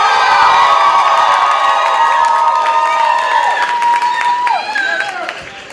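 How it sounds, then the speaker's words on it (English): Loud crowd cheering with piercing screams and whoops over continuous clapping greets a pageant couple representing the Dominican Republic at a university Latino student event, dropping off toward the end. "Can I get a round of applause for Gio and Luz representing Dominican Republic?"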